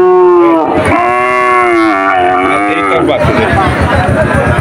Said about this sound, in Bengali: এখন আমার সামনে একটা গাই গরু দেখা যাচ্ছে